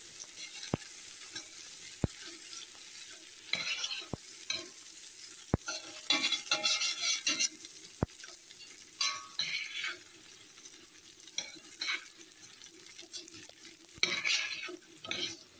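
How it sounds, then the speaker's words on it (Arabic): Rice is stirred into oil with golden-fried vermicelli in a single pot, bringing repeated spoon scrapes and clinks against the pan over a soft sizzle, close by and without speech. "جبنا بالرز هنفضل نقلب فيه شويه لحد ما يتغلف بالزيت"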